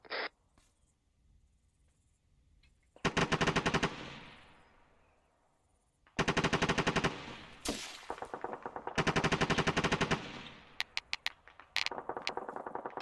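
Loud bursts of automatic machine gun fire ring out during a military field training exercise, coming in several sustained volleys separated by short pauses, with sharp repeated reports and lingering echo.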